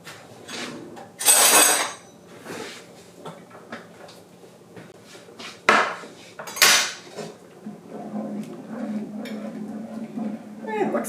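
A spoon scrapes and knocks around a pot of hamburger gravy, irregular metallic clinks and scrapes close by, with louder clanks at moments and a low background hum; a voice is heard faintly in places.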